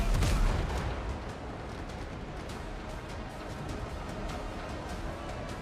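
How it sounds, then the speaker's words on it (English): Gunfire crackles through a pirate video game firefight on the high seas, a dense, steady barrage of shots and booms that opens loudest and then rolls on continuously, with no voices. "They're shooting at me."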